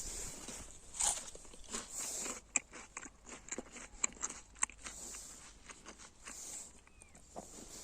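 Crisp crunching bites and chewing of a very hard winter pear close to the microphone, a series of sharp snaps against a quiet background.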